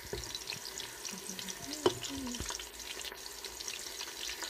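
Oil sizzles and spits steadily in a pan while cooking spinach soup, a close, soft crackle with one brief clatter of the utensil partway through.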